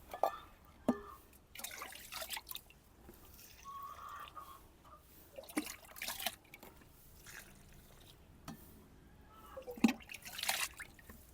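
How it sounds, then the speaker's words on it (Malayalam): Slurry is poured into a pan holding a tomato, with intermittent splashes and thin trickles of liquid between pauses, while a voice talks quietly nearby. "അതിന് കൂടെ നമുക്ക് ഇച്ചിരി സ്ലറി ഒഴിച്ചു കൊടുക്കാം"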